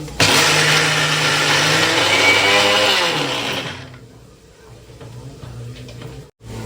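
A mixer grinder whirs steadily, grinding soaked lentils into vada batter, loud and close for about four seconds before cutting off and leaving quieter kitchen sounds.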